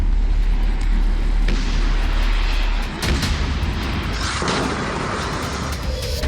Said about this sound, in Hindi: लगातार इजरायली बम वर्षक गाजा में आतंकी ठिकानों को नेस्तनाबूद कर रहे हैं